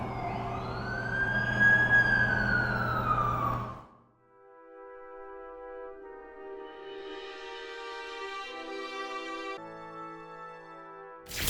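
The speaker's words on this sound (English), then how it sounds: "That's the ambulance I called." An ambulance siren in the Amazing Spider-Man 2 video game wails loudly with rising and falling sweeps, briefly cuts out, then returns as a steady, layered electronic tone, fairly near and with no talk over it.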